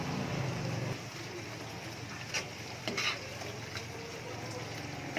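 Ginataang talbos ng kamoteng kahoy, cassava leaves in coconut milk, is stirred in a pan over a steady bubbling simmer, with a few soft scrapes and knocks of the utensil close by.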